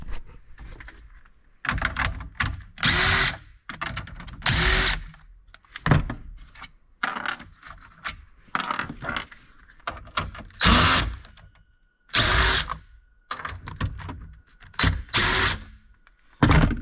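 Power drill whirring in repeated bursts while backing out 7 mm bolts from the dash of a Ford F-350 during a radio install, with short pauses and clunks between runs, close and fairly loud.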